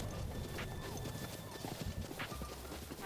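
Horse in the video game Breath of the Wild, with steady clip-clop hoofbeats and a brief whinny amid faint game background sound, no speech over it.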